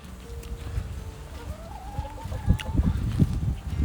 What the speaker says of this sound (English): Let's see if the chickens want some.